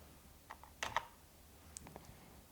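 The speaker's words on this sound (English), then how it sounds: "press the corresponding function key on the keyboard" A few sharp key presses on a computer keyboard, a short cluster of close clicks with soft gaps between them in an otherwise quiet room.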